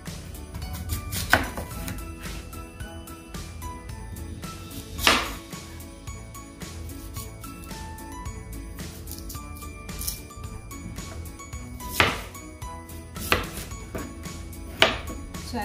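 Knife slicing fresh fruits for a Filipino fruit salad with young coconut, a steady run of soft cuts broken by several sharp clinks and taps of the blade on the board, close and alone with faint music underneath.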